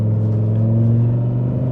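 An Audi RS3 engine and exhaust, heard from inside while driving, give a deep steady throaty drone with a low rumble, loud and close with no speech.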